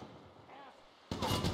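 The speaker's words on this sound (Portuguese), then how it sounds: "Eu só tô escutando tiro." Gunfire in GTA V, a quiet stretch with faint distant pops giving way to a sudden loud burst of close, broadband shooting and rumble in the final half second.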